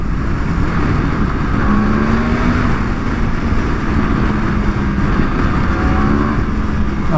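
A BMW S1000RR sportbike's engine roars steadily and loudly up close, with a faint rising tone as it accelerates, under constant wind and road noise and with no talk.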